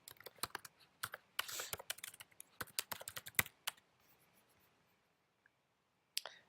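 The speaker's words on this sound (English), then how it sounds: "So I'm going to type in Boston Public Gardens." Quick bursts of keystrokes on a computer keyboard as a search phrase is entered, close and clear, with the clatter ending in a short pause before one final tap.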